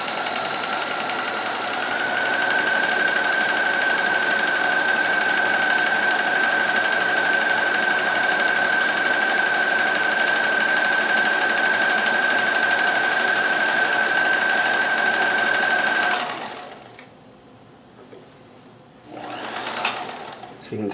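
A sewing machine runs a multi-point zig zag stitch on clothing, a loud, steady, close whir that holds for about sixteen seconds before stopping abruptly, followed by quieter handling sounds and a brief final burst.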